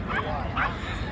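A dog gives two quick, faint barks during a walk through town at an outdoor nomad gathering, set against a noisy background.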